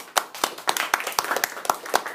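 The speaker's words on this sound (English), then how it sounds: "Let's give them a round of applause." Classroom applause for a student's persuasive speech: a small group clapping in a brisk, uneven burst of distinct hand claps, close and moderately loud, with no talking over it.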